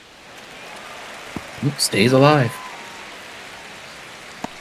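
Rain falls in a baseball video game as a steady, soft hiss that carries on under a brief stretch of commentary.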